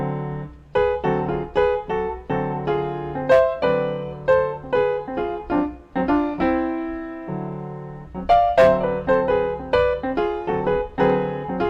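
Solo jazz piano comping with 6th diminished chord voicings, playing a steady series of crisp struck chords that ring briefly between hits, clear and close with no talking.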